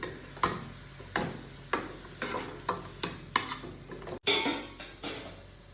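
Carrot halwa stirred in a pan: a spoon scrapes the pan bottom in about a dozen regular strokes, close and fairly quiet over a soft sizzle, no talk.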